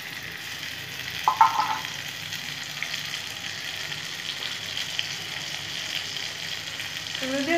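A ground paste of sesame, poppy seed and mustard fries in a pan with a soft, steady sizzle and a brief clink near the start, continuous and close with no talking.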